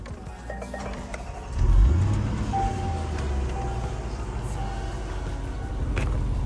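A Range Rover Sport SVR idles while stationary, a steady low engine rumble that swells briefly near the start and then settles into an even hum, with a faint whine over it and no talk.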